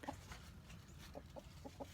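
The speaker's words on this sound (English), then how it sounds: "I hear chickens, don't hear ducks" A few soft chicken clucks come from a distance, faint over low background noise.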